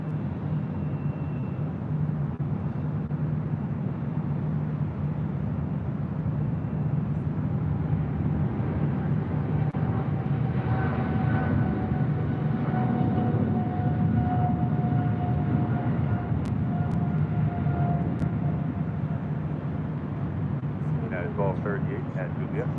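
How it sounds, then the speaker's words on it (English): China Airlines Cargo Boeing 777 freighter arriving from Taipei and flying directly overhead at LAX, a broad steady engine roar that swells and lingers, with people talking over it. "China Airlines Cargo flight 5108 coming in from Taipei, a 777 freighter flying over us directly here at the H."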